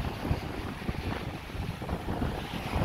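Wind and waves wash steadily across a beach at Atlántida, Uruguay, a continuous broadband roar with gusty rumble buffeting the microphone and no voices.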